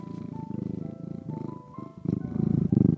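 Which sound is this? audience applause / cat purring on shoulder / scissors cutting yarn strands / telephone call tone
cat purring on shoulder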